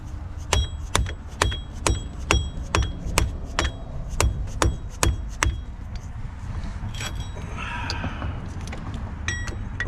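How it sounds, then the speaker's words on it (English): About a dozen sharp, evenly spaced blows from a small rubber mallet on the passenger lower control arm of a 2013 Ford C-Max ring out close by, then stop, followed by faint clinks and handling noise. "This is the smallest rubber mallet I got."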